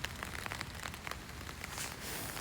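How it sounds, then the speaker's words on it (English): Rain patters on a camping tarp, a dense crackling hiss of drops with small irregular taps, close but quiet and steady for a few seconds with no voices. "Oh, you can hear the rain."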